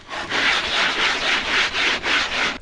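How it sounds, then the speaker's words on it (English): Wood being hand-sanded with sandpaper wrapped around a wooden block, a steady rhythmic rasp of about seven back-and-forth strokes, close and fairly loud with no voices. "We are just trying to get them smooth enough to where the paint will settle on them."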